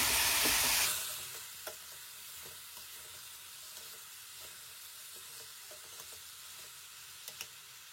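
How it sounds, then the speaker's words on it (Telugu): Cut cluster beans with salt and masala sizzle and crackle steadily in a hot pan, opening with a loud burst that settles into a continuous frying hiss with occasional scrape clicks from stirring. "ఇవన్నీ కూడా ఒకసారి బాగా కలుపుకోండి"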